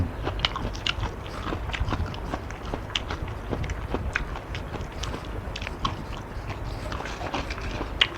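Crisp, crunchy bites into Indonesian salak fruit, with repeated sharp crunches and chewing up close throughout, and no talking.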